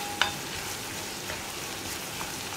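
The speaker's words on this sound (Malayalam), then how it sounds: "സവോളയൊക്കെ വഴറ്റുമ്പോൾ ഹൈ ഫ്ലെയിമിൽ തന്നെ വയ്ക്കാം." Onions sauté in a pan on a high flame for aloo gobi curry, making a dense, even sizzling hiss. A single sharp clink comes at the very start.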